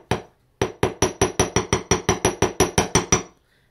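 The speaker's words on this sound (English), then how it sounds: "I just got a little hammer and I just tapped it just like that." A small hammer tapping jewelry wire straight on a hard surface, about fourteen sharp metallic taps in an even, quick rhythm after a single opening strike, close and loud with nothing else audible.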